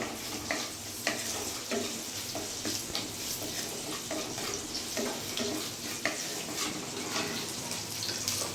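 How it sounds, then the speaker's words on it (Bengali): Vegetables frying in a pan with a little salt and turmeric for a vegetarian thali, a steady close sizzle with occasional stirring scrapes and clicks throughout, no talking. "আর ভালো করে আমি এটাকে ভেজে নেবো।"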